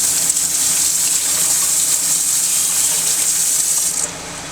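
Tap water runs steadily and loudly into a sink, rinsing stone dust and slurry off trimmed dental models, a close continuous gush that cuts off just before the end.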